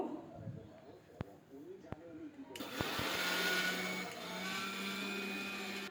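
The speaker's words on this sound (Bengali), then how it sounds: "আমি চিনিটা ব্লেন্ডারে গুঁড়ো করে নিব, একদম ময়দার মতো করে নিব।" A blender grinding sugar into fine powder starts up partway through with a loud continuous whirring roar after softer clicks and a voice talking, then runs steadily to the end.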